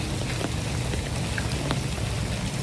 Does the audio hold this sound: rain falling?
yes